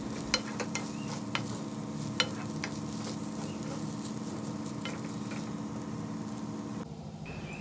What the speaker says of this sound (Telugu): మా బాబుకి తోటకూర ఫ్రైడ్ రైస్ అయితే చేస్తున్నా.